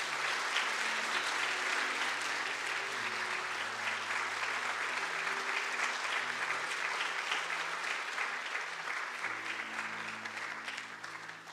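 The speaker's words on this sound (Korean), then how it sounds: "박수 부탁드립니다." A room full of people claps steadily for several seconds, a dense, even patter of applause that gradually fades, with a low sustained tone beneath.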